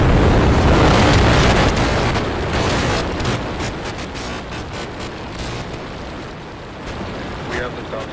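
SpaceX Starship IFT-4 rocket engines ignite at liftoff with a massive, continuous broadband roar and crackle, loudest at first and then easing slightly while staying dense and powerful throughout.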